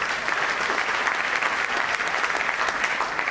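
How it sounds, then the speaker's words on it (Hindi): An audience claps at a network marketing training event, a dense, loud, steady round of applause that runs without a break. "एक बार जोरदार तालियां मनीष वाले के लिए।"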